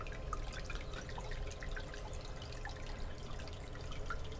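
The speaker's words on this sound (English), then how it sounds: "turn the water up slow to begin with until it gets wet" Tap water running steadily into a gold concentrator's secondary trap, a constant broadband wash with scattered drips and splashes, close and even in level throughout, no voices.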